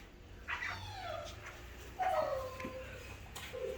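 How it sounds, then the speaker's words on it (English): A puppy whimpers and yips indoors in a newly moved-into house, a few thin high whines spaced over several seconds, fairly faint and close. "Mom, the puppy."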